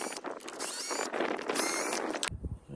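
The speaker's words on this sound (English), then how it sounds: "So let's get these screws out and see how it is." Screws being backed out of the base of a leaky boat hatch, with a dense run of close mechanical clicking and ratcheting scrapes that stops abruptly near the end.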